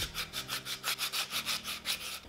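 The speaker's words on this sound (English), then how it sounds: "is to sand the end just so that it's not as rough as it might have been from cutting it with a saw" Sandpaper scrubs the end grain of a softwood 2x2 in a steady, close back-and-forth rhythm, about a dozen strokes in quick succession, with no voices.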